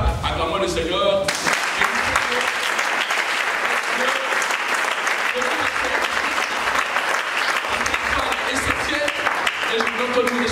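A church congregation applauds and cheers in praise of the Lord, sustained loud clapping and acclamation filling the room, with voices shouting over it throughout.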